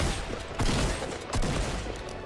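Gunfire in the Fortnite video game comes as two dense bursts of rapid shots, loud and close, filling the short stretch without any talking.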